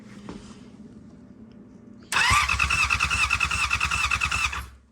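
A trashed Yamaha R6 sports motorcycle that won't start, cranked on its starter: after a quiet hum, a sudden loud rapid chugging crank with whirring starter runs steadily for under three seconds and stops without the engine firing.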